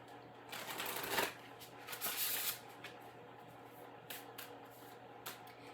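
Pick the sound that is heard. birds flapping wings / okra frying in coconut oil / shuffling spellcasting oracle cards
shuffling spellcasting oracle cards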